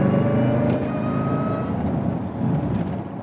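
A Jeep Grand Cherokee Trackhawk with a JLT cold air intake pulls at part throttle, a loud low engine drone heard from inside the cabin with the window closed, steady and close.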